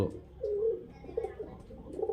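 Murshidabadi Giribaz pigeons of an old bloodline cooing, a few soft throaty coos close by over faint background hum.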